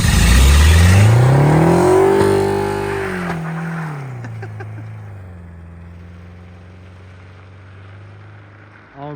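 A Honda Prelude revs hard and accelerates close by, the engine note climbing through a loud sweep before dropping back to a steady, fading drone.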